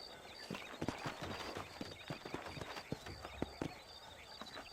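Several horses in a video game clip-clop with uneven, overlapping hoofbeats at moderate distance, sometimes with a faint neigh.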